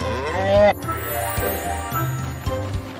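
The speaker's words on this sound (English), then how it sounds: "big cow" A big cow moos in a long, loud call that bends downward, then a few lower bellows follow, with soft talk and bright jingling around it.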